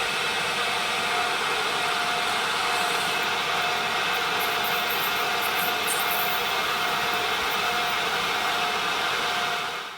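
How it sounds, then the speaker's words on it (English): Metal lathe turning a taper and then parting off the workpiece, heard as a steady close machine whine with broadband cutting hiss that runs throughout without pauses and fades out at the very end. "And then it's simply to cut the taper and then part it off."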